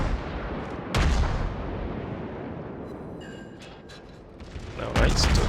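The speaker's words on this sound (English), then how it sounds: "that's some quite effective HE fire" Naval gunfire from a warship in World of Warships, with heavy booming salvos at the start and end and sustained rumbling blasts between, some crackling higher bursts mid-clip.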